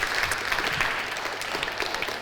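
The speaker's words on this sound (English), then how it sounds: "Let's give him a clap." Audience applause from a seated crowd at a conference event, a steady dense wash of clapping filling the whole stretch at moderate volume with no talk over it.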